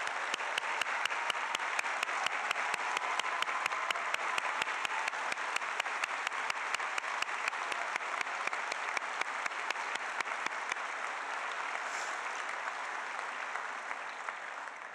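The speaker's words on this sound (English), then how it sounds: "Please stand so we can applaud your service to our country." A large audience applauds at a high school graduation for military and veteran families, with a long, even stretch of dense clapping and a steady rhythmic clap pattern, gradually softening toward the end.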